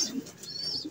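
A racing pigeon coos softly on arrival back at its loft after a 97 km race, one short low call heard close with faint background noise.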